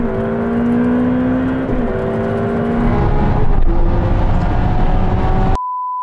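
An eight-speed Ferrari racing a Porsche in a drag race, heard as a loud, steady engine roar with rising whining gear tones that climb and shift across several gear changes, continuous and close, with no talk.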